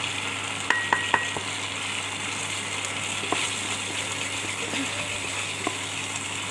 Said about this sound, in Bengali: এটা নাড়তে নাড়তে যখন একটু ভাজা ভাজা হয়ে যাবে